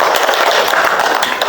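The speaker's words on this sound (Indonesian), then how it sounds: "Tepuk tangan untuk Aziza." A classroom of students applauds a classmate with dense, continuous clapping that stays loud and close throughout the brief moment.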